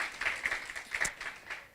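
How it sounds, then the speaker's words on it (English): Applause from a lecture audience, a soft, fairly distant patter of scattered clapping that holds steady for under two seconds. "So a very warm round of applause again"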